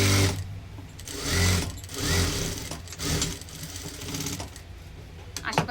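A sewing machine stitches a four-tuck blouse, running in steady close bursts with short dips between them.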